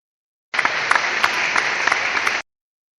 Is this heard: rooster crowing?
no